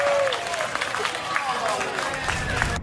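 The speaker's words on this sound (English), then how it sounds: "It surely is just embarrassing when people applaud when you get kicked off." Passengers on an airplane cabin break into brief applause, a short burst of clapping mixed with crowd chatter and murmuring voices close by.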